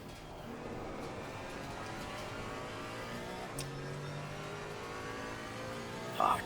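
Porsche Cayman GT4 in a racing sim: steady engine drone with tyre and road rumble, a constant mid-level hum from the cockpit at speed, a brief click near the end.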